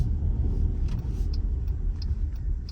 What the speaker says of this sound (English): We've got a car coming, and now we've gone to clear roads.